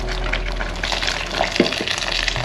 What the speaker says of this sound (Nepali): यसमा पानी थप्नुपर्छ।